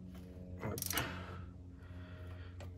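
A 27 mm bolt on a Mercedes 500SL R107 engine is turned clockwise with a wrench, giving a short mechanical ratcheting and creaking burst near the middle, fairly loud and close, with quiet workshop hum around it.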